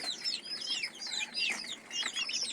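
White Frizzle police cap chicks on a farm give rapid, high, overlapping peeps and chirps at close range in steady bursts, with no talking.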